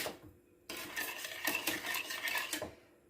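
A lemon meringue tart mixture is stirred in a pot over low gas, making a quick, continuous metallic scraping and clinking of the utensil against the pot, close and without voices.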